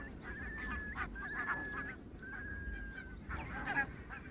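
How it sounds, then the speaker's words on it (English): Barnacle geese honk repeatedly in a loose chorus at moderate distance across a field on Islay, calls overlapping against a low rumble of outdoor background noise. "Barnacle geese mow their way across a field on the RSPB reserve"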